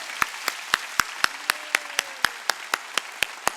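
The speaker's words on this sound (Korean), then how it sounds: "박수 세게 치라고." A church congregation claps loudly during a Sunday worship service, with sharp hand claps landing in a steady, even rhythm of about four per second, with no talking over them.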